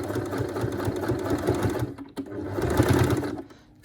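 A sewing machine runs in a steady, loud, close whir as it stitches a crochet top sleeve, pausing briefly in the middle before starting again, with no talk.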